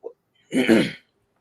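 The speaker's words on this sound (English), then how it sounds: "No, I was just coughing." A single short cough, close and fairly loud, after a brief faint sound at the start, then silence.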